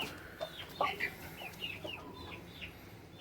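Young Thai Shamo Aseel chicks, home-bred, give thin high peeps and soft clucks in scattered bursts, nearby against quiet room noise.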